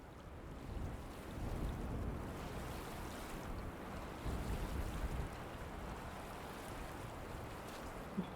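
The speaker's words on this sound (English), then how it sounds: "Hear the water." Water and waves in the video game Myst, a soft continuous wash of surf with gentle swells rising and falling, faint and steady with no talk.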